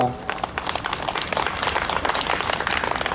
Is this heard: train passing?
no